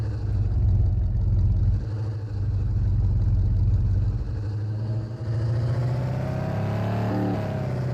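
Pickup truck engine in the game Factory Outlet Simulator, a steady mid-pitched drone that dips briefly, then climbs as the vehicle accelerates, close and continuous with no talk.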